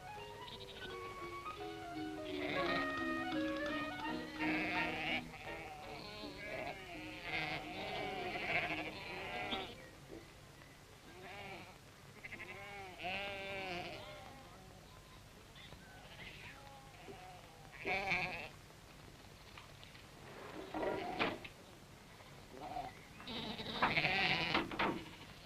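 Sheep bleating repeatedly, overlapping calls at moderate distance, carried in a compact Land Rover livestock carrier, with a steady low background rumble.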